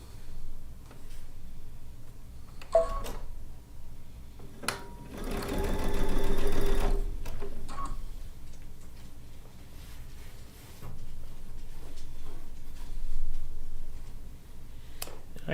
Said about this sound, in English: Let's get this side sewn in.